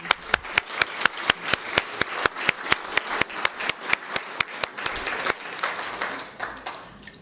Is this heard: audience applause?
yes